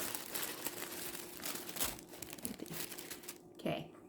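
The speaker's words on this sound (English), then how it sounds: "I should probably be quiet while I unwrap this" Jewelry packaging being unwrapped for earrings, close crinkling and crumpling of paper or plastic with soft rustles and a few sharper tearing sounds, fairly quiet throughout.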